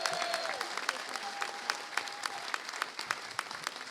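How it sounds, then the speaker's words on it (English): Applause from an audience at a New York City celebration of the right to counsel law's passage, steady dense clapping sustained for several seconds, with a faint whistle or tone threading through. "Let's give him a big round of applause"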